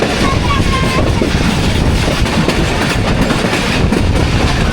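A locomotive hauls the Shah Hussain Express on the Karachi to Lahore route, heard as a loud, continuous rumble of wheels and carriages with faint rhythmic clatter and wind buffeting from on board the moving train.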